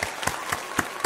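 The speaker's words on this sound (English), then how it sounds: "I'm actually going to give you a clap." One person claps slowly and evenly nearby, about five distinct claps with no talk.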